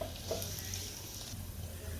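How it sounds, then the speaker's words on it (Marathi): Close, continuous sizzling of moong dal frying in hot tempering oil, a steady crackling hiss with a faint stir at the start. "मुगाची डाळ फोडणीमध्ये टाकून थोडेसे भाजून घेते."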